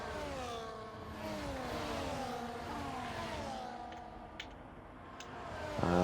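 Race cars in a racing game, lined up at Qatar on the formation lap, including a Mercedes and a McLaren, with a steady blended engine whine and shifting revving tones throughout.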